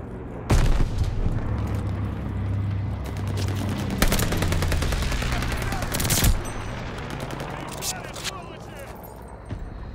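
A grenade thrown and exploding in Call of Duty Vanguard, with loud booms and blasts among bursts of rapid gunfire and battle noise, while a voice talks over the fighting.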